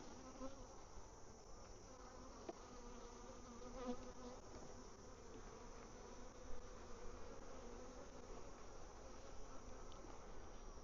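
Honey bees swarm around an opened hive with frames of honey, a soft, continuous buzzing drone of many insects close by, steady and unbroken with no voices.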